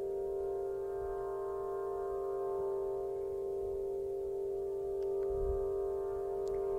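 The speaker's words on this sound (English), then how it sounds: "what you're hearing is an Aeolian harp, wind harp, placed in the center of Stonehenge on a summer solstice." Aeolian wind harp in the center of Stonehenge on the summer solstice: a steady, faint, droning chord of layered sustained harmonic tones that holds without a break, with soft outdoor wind rumble beneath.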